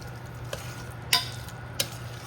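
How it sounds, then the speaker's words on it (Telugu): Mutton is stirred into an onion and tomato gravy for a Telangana-style curry: a soft, steady sizzle with three brief scraping strokes of the spoon against the pot, close and moderate in level, with no voices. "సో ఇప్పుడు ఈ యాడ్ చేసిన మటన్ అంతా ఈ గ్రేవీతో కలిసేలాగా కలుపుకుంటూ కుక్ చేసుకోవాలి."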